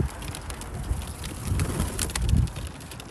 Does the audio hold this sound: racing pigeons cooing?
yes